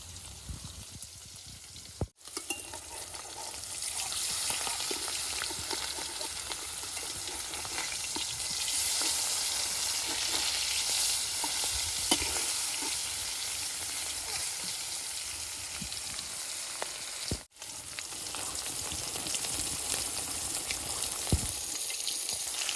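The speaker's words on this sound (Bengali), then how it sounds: "তো দেখেন মাছগুলো আমার সব একদম কড়া করে ভাজা হয়ে গেছে" Pangas fish sizzles in a pan of hot oil with a dense, steady crackle that runs almost unbroken, punctuated by occasional light stirring scrapes and two brief cuts.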